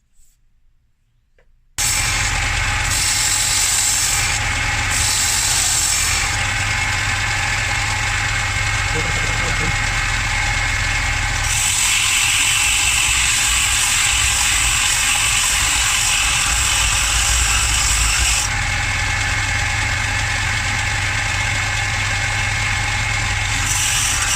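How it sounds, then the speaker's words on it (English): A drop point hunting knife blade being surface ground to remove teeth, a loud steady machine whine and grinding roar that starts abruptly after a short silence and holds with shifting intensity throughout. "I am going to start surface grinding it, get rid of these teeth"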